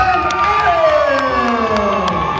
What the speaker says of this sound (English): Let's make a big round of applause for Journey and